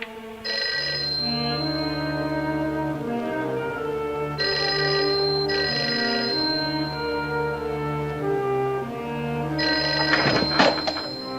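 A telephone rings unanswered in a 1956 noir crime film. Bright bursts of bell ringing repeat in a regular pattern over sustained orchestral music, with a muffled thump near the end.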